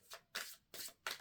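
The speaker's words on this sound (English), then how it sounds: "2 more shuffles." Tarot cards being shuffled in three quick riffling bursts separated by short pauses, close and crisp with no talking.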